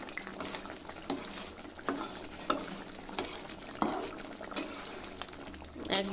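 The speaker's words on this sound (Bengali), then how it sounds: "মাছগুলারে ভেজে তারপর হচ্ছে গিয়ে টমেটো দিয়ে এইভাবে করে" Fish frying in a pan with tomatoes being added, a steady close sizzle broken by repeated louder scraping stirs roughly every second, with no voices.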